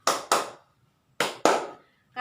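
Two pairs of sharp hand claps in a classroom clapping game led by a teacher, two quick claps, a pause of about a second, then two more, crisp and close in a quiet room.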